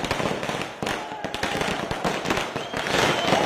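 Party workers set off firecrackers to celebrate outside the Y.B. Chavan Centre, a dense crackling barrage of sharp pops over faint crowd noise, close and continuous.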